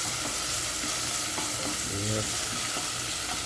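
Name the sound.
sautéing garlic and onion in a pan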